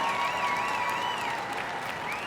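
A big arena crowd at the Westminster Dog Show keeps up sustained applause and cheering, a continuous roar of clapping with occasional whistles and shrill calls above it.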